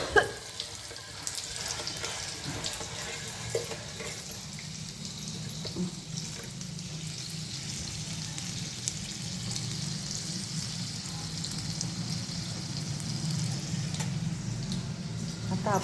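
Chopped garlic sizzles in hot oil for a dal (varan) tempering, a steady close hiss that runs unbroken throughout over a low background hum.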